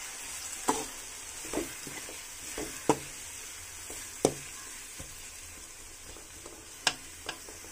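Spices for mutton pulusu, including chilli and coriander powder, fry in a pan, giving a soft steady sizzle broken by a series of sharp spoon scrapes and taps at uneven intervals, with no talking.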